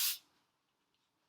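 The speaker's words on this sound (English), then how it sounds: "I'm just going to spray a little bit onto my spoon." A short, close burst of non-stick cooking spray hisses onto a spoon, lasting a fraction of a second before cutting off into near silence.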